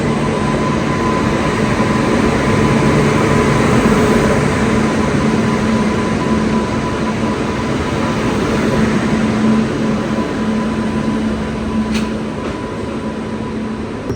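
Hubli–Kochuveli Superfast Express, an AC 2-tier train, running steadily on its route: a continuous loud rumble and hum of wheels and carriage, constant throughout with no talk.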